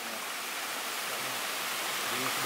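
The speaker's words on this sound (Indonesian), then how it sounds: "Air terjun yang bawah." Lower waterfall at Air Terjun Mangsang: a steady, dense rush of falling water fills the scene evenly from start to end, with a faint murmur of voices underneath.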